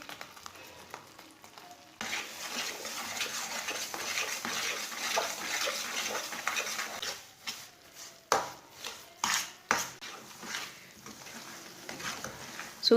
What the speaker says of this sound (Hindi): मैंने तो इसमें घी डाला है, लेकिन आप ऑयल भी डाल सकते हैं। साथ में काजू भी ब्राउन कर लेंगे।